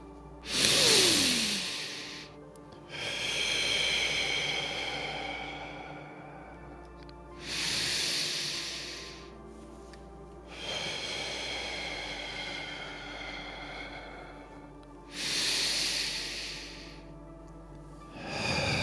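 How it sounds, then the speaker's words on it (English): Slow, deep breaths repeat in a steady cycle during a group meditation, with an airy inhale drawn in through the nose followed by a longer, softer exhale through the mouth, close and alone. "let's take 3 nice deep breaths in through our nose, hold for a moment, and exhale through our mouth"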